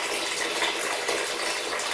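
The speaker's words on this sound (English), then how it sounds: "Where I've released that valve, it's allowing the air in, which in turn is allowing the water to drain out" An air release valve on a towel rail radiator hisses steadily as water drains out, a continuous broad rushing hiss, close and even throughout, with no speech.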